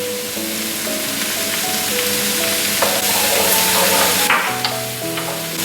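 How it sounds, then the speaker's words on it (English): Butter melts in a hot pan with browned ground-beef Salisbury steak patties, giving a loud, continuous sizzle and crackle over soft background music. "Right, now we add our butter."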